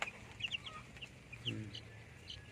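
Native chickens released from their enclosure cluck and chirp softly in a short burst of scattered calls, with a low rumbling background and no talk.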